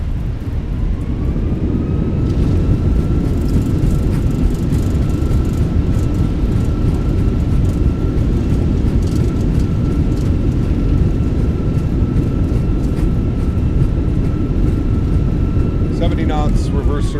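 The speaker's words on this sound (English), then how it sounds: "Goes down gently. Reversers are out." Airbus A320 thrust reversers in a flight simulator roar steadily after landing, a loud broadband engine rush with a faint sustained tone, holding evenly as the aircraft decelerates.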